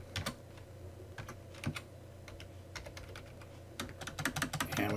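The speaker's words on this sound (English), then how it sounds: "And in the text box, I'm going to type in color." Rapid keystrokes on a computer keyboard while entering text into a Google Slides text box, irregular clusters of close clicks over a steady low hum, with no voices.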